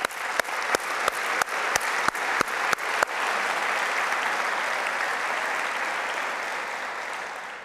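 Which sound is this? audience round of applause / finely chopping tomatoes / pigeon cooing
audience round of applause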